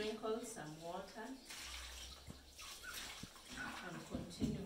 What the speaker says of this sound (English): Sprinkle some water